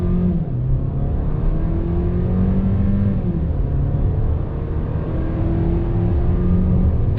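A 2021 Hyundai Sonata hybrid in sport mode pulls away from a near standstill, its engine note climbing steadily with rising, stepping whine and road rumble heard from inside the cabin, loud and continuous, with nobody speaking.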